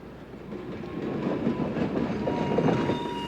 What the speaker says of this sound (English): The passengers have made a ritual out of this yearly train ride